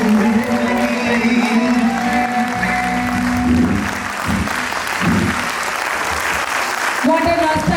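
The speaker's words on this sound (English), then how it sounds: "Give them a huge round of applause." Audience applause at a preschool annual day function, loud and continuous clapping mixed with background music and crowd noise, with a few louder bursts midway and music rising again at the end.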